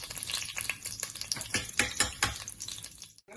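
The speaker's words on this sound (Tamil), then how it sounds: "இப்போ வந்து கடுகையும் உளுத்த பருப்பையும் போட போகிறேன்" Mustard seeds and urad dal temper in hot ghee for sambar, crackling and popping densely and irregularly up close over a sizzling hiss.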